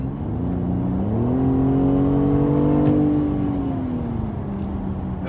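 A 2018 Mercedes E300 engine pulls hard under full throttle, its rising harmonic drone climbing steadily in pitch, peaking, then easing off, loud and continuous from inside the cabin with no talking.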